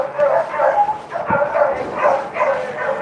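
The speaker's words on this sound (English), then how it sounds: "I hear the neighbor's crazy dog getting after it" A neighbor's dog barks repeatedly outdoors, a run of loud, fairly close yapping barks in a steady rhythm, with a faint voice underneath.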